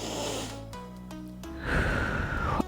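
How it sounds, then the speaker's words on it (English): A deep breath drawn and released while holding a stretch, a close, audible inhale followed by a longer rushing exhale. "And one more deep breath here"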